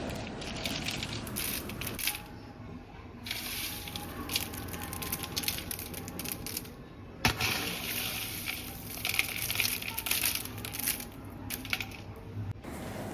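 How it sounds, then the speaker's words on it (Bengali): Sun-dried homemade prawns are handled and crushed by hand, giving a close, crisp crackling and rustling that runs on with bursts and brief pauses. "এই চিংড়ির শব্দ শুনলেই আপনারা বুঝতে পারবেন।"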